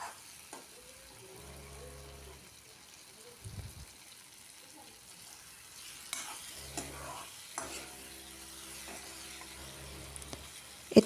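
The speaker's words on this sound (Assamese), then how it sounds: "আলুখিনি দি ভালদৰে ভাজি ল'ম।" Boiled potatoes fry with spices in a pan, making a soft, intermittent sizzle and stirring scrapes at low volume, with a faint background hum and some brief clatter.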